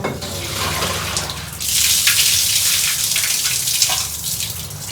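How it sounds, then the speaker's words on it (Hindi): Dishes are washed under a running tap in a shared hostel kitchen at night, a steady hiss of water with clatter and splashes as the flow grows heavier partway through. "इसलिए मैं साफ करके जा रही हूँ सारा बर्तन"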